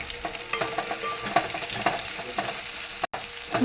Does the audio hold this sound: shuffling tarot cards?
no